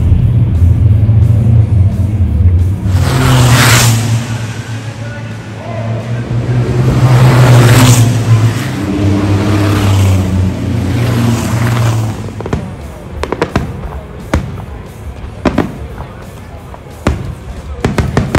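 Racing trucks at the 24 Hours of Le Mans truck race, night session, roaring loudly with sustained engine drone and pass-by surges, followed by sharp bangs and crackles of fireworks in the second half.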